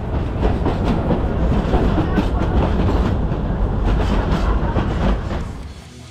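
Moldovita narrow gauge steam train in Bukovina passing close by, giving a loud, continuous rumble and clatter of wheels on rails that fades slightly toward the end.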